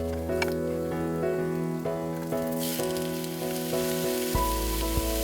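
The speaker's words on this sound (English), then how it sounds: "Now add in a little bit more sesame oil and your peppers and just cook those down a bit" Peppers cook in sesame oil, a soft sizzle that grows brighter partway through, heard under steady background music.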